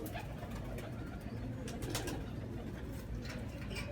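A golden lakha pigeon coos softly and faintly within a steady, noisy background hum, with no clear voices.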